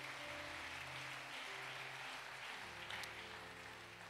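Church congregation at a Sunday worship service applauding together, a steady broadband clapping wash that holds evenly for several seconds with a faint tonal hum beneath and no talking.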